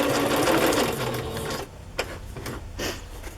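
Sewing machine stitching onto a Raggedy Ann fabric journal, a steady dense mechanical whir for about a second and a half, then stopping into quieter handling and faint clicks.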